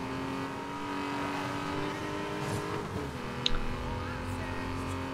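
A car engine from the video game Need for Speed Most Wanted drones steadily and loudly throughout, its pitch dipping briefly midway as if shifting gear, with a short sharp click near the end.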